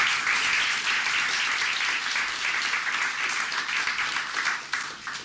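Audience applause at a Guiding Eyes for the Blind guide dog graduation ceremony, a steady dense wash of many hands clapping at moderate distance, sustained throughout with no speech over it.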